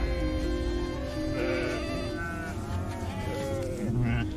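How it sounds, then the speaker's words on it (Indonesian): Sheep bleat repeatedly in a steady, close chorus of wavering cries over a constant low background din from a flock. "akhirnya Najib pun bisa memerah susu domba itu"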